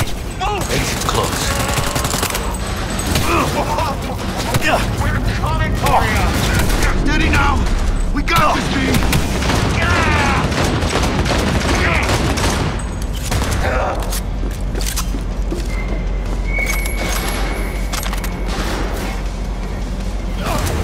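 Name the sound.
gunfire in video game Cyberpunk 2077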